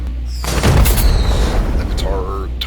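Incendio fire spell cast in Hogwarts Legacy, a loud whooshing burst with a booming low rumble and crackling tail, over steady game background sound.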